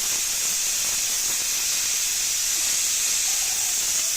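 Steady broadband hiss of a lit gas stove burner under a pressure cooker, close and continuous with no breaks or talking.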